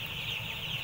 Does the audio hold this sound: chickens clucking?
yes